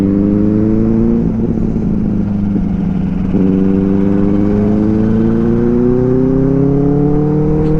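A motorcycle engine idles steadily and then revs up a couple of times, the pitch climbing and settling, loud and close with no talk over it.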